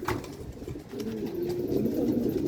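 A racing pigeon coos with a low, steady rumbling call that swells and holds through most of the moment, close by over a noisy outdoor background.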